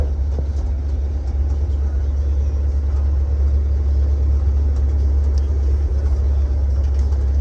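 A restored 1975 International Harvester Scout II drives along a road. Its engine and road rumble make a steady, loud, low drone heard from inside the cab.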